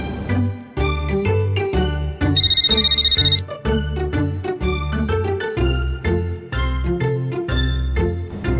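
A mobile phone ringtone for an incoming call plays as a loud, rhythmic melodic tune with repeating bass notes and bright chimes, continuing steadily with no talking.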